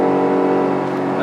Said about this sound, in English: This sounds awesome. V8 power, 5-liter V8.